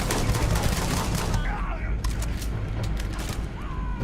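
Heavy gunfire in Starfield on PC: a dense, loud barrage at the start that thins into scattered sharp shots and bursts, with a steady, noisy battle bed throughout.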